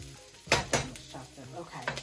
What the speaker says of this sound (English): Chunk the ground beef up.